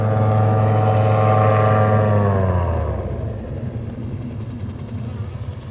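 Groen Brothers SparrowHawk autorotating gyroplane in flight, a loud droning engine and rotor tone sweeping downward in pitch as it passes, then fading into a steady broadband rumble.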